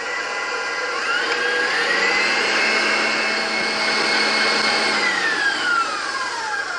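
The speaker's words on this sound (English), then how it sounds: "I'm going to start whipping it until it forms soft peaks" An electric mixer whips cream toward soft peaks, a loud steady motor whine that shifts pitch slightly as it runs, close and without speech.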